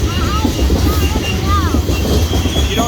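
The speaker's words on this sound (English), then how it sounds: "What were the locomotives?" BNSF ES44 freight locomotives and cars roll past the USAF Academy crossing with a steady close rumble, rhythmic wheel clatter and faint wheel squeals, while people talk over it.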